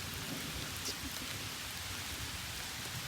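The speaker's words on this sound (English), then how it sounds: "So it's starting to rain." Steady rain falling outdoors at a building site where a temporary electrical service is being installed, a dense even hiss of drops on surfaces with no talk, broad and continuous throughout.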